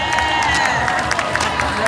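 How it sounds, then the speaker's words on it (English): An expo crowd applauds itself in a dense, steady wash of clapping mixed with cheers and a few whoops, loud and close, without pause. "Give yourselves a round of applause."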